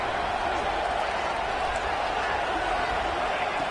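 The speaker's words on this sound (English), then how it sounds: "And here comes the noise. This crowd is trying to inspire this defense to make a big red zone stop." A stadium crowd at a Texas Tech vs Utah college football game roars steadily to rally the defense in the red zone, a dense, sustained wash of noise under a commentator's voice.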